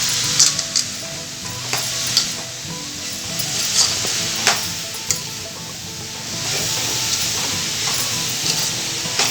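Baby jackfruit bhaji with crushed peanuts and grated coconut being stirred in a pan, a steady close sizzle with repeated scraping strokes of the spoon and occasional clinks against the pan.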